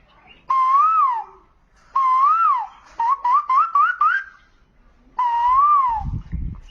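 A person whistles an imitation of a koel bird call during a mimicry performance: loud, clear rising-and-falling whistled phrases, then a quick run of short stepped notes climbing in pitch, then another long phrase, with a brief rumble at the end.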